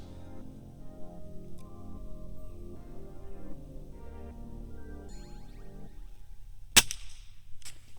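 A single sharp crack from a Gamo Whisper Fusion Mach 1 air rifle, one brief close shot near the end after a stretch of quiet low background hum.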